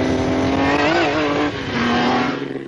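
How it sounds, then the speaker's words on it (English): A vintage ERA Grand Prix racing car engine revs hard and close, a loud rasping tone climbing and dipping in pitch as the throttle is blipped, with no voices. "It sums up for me what a racing engine should feel like and sound like, and it's just so eager and willing, wants to rev."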